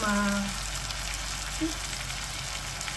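Steady sizzling and crackling of something frying in hot oil fills the clip, with a brief low hum at the start.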